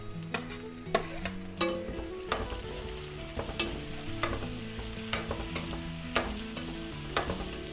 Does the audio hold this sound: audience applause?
no